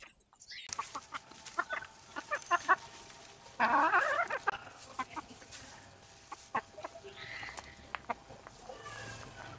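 A desi chicken clucks close by in short, irregular bursts, with one louder, drawn-out squawk partway through and quieter clucks continuing after.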